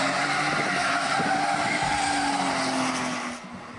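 Loud, sustained tire squeal from a car doing donuts in street hooning, spinning in circles, with a revving engine underneath, fading slightly at the end.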